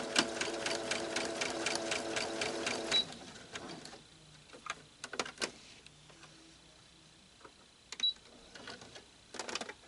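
A sewing machine stitching a quilt runs in a steady rapid chatter for about three seconds, then falls quiet apart from scattered clicks and short mechanical taps near the machine.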